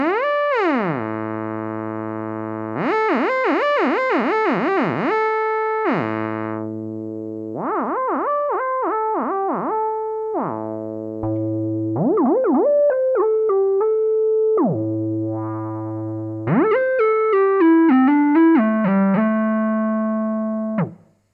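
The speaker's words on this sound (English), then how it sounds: "This is where the portamento comes into play. This is the time it takes to jump up and down" A Farfisa Pergamon organ plays bright, buzzy sustained tones with portamento that slides smoothly up and down between notes, loud and close, in several phrases with short gaps and no talking.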